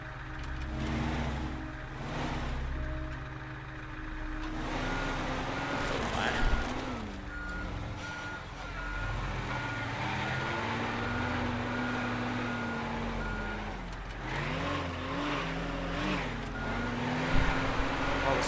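A truck manoeuvres in the video game Teardown, its steady low engine drone running under a loud, regularly repeating reversing beep, with a few brief engine swells.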